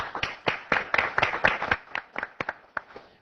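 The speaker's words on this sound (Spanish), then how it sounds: "Los recibimos con un aplauso." An audience claps to welcome guests onto a stage, with a sparse, uneven run of distinct handclaps that thins out toward the end. No one speaks over it.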